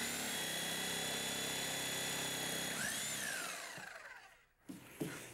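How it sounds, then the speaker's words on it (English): Reciprocating saw cutting off the bottom of a wall stud: a loud, continuous buzzing whine that runs for about four seconds, then winds down and stops, followed by a couple of light knocks. "This is called a reciprocating saw because the blade reciprocates back and forth."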